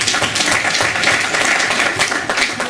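A comedy-club audience applauds for Joe Franklin, a steady dense wash of clapping that stays loud and even for a few seconds with no talk over it.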